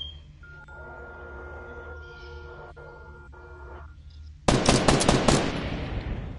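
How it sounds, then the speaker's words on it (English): A hostile automatic weapon in a first-person shooter cuts in suddenly with a loud, rapid burst after a quieter stretch of background game hum and tones, and the burst fades out over about two seconds. "Damn, he's shooting at me, go get him."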